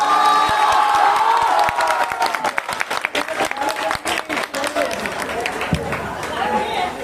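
A school audience breaks into loud, dense clapping after a short stage play at a Teachers' Day programme, the applause carrying through most of the moment and thinning toward the end amid crowd noise.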